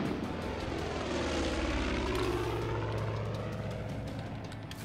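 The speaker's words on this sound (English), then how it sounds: "Maybe I can shoot this plane now." A propeller airplane drones overhead in the video game Far Cry 5, a steady, loud engine hum with a throbbing propeller beat that lasts throughout, with no voices over it.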